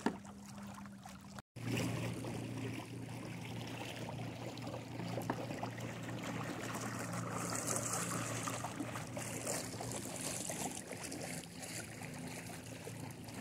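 A Watersnake T24 electric trolling motor drives a small boat across choppy, shallow channel water, giving a steady low motor hum beneath continuous splashing and slapping of wavelets against the hull.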